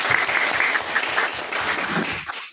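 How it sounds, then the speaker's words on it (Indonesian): Classroom applause from students during a lesson, a close, lively round of hand clapping with some rhythmic beats, stopping abruptly after about two seconds. "Baik, tepuk tangan."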